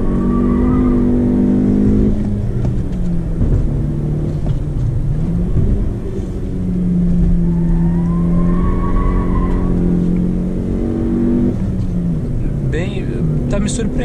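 A 2018 Jeep Renegade 1.8 with manual gearbox is driven hard, its engine droning and rising and falling in pitch through shifts, loud and close, while someone talks over it.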